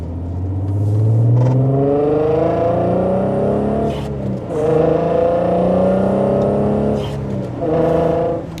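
A manual MK6 GTI swapped to a 3.6L AWD engine with a new exhaust accelerates through several gears, its loud rumbling note climbing in pitch, dropping at each shift, then rising again, heard from inside the car.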